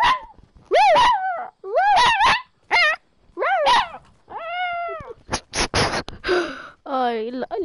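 A dog called Lucy barks in short harmonic bursts, alternating with a person imitating barks back at her. The sounds trade back and forth over several seconds at close range, with some speech mixed in.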